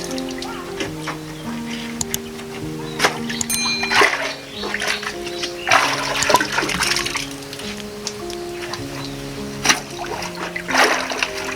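Plastic bags of mushroom substrate being soaked in water, with repeated splashing and sloshing bursts over a steady background tone.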